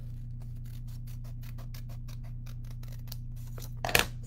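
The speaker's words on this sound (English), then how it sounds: "So I will cut my triangles." Scissors snipping paper triangles for a corner bookmark, a quick steady run of small crisp cuts close by, ending with a brief louder rustle of paper.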